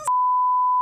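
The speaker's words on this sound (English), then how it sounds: "Why was this beeped out?" A single steady electronic censor bleep, loud and continuous for most of a second, cutting in right after a brief burst of voice and masking a swear word.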